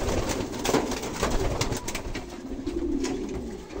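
Pigeons coo in a loft, a steady layered murmur of several birds close by with soft rustling, no talk.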